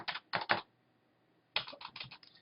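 Typing on a computer keyboard while building an MS Excel 2013 spreadsheet: two short bursts of close, crisp key clicks separated by a second of silence, with no talking.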